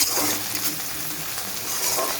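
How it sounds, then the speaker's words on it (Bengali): Steady hiss of onions, green chillies and Bengali five-spice frying in a wok, a continuous close sizzle with faint stirring scrapes. "কড়াইতে পাঁচফোড়ন দিয়ে কাঁচা লঙ্কা পেঁয়াজটা ফোড়ন দিলাম"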